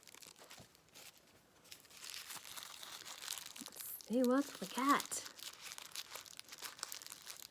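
Small gift packages being opened by hand, with soft crinkling and tearing of wrapping that swells in bursts, heard close up under a quiet voice speaking.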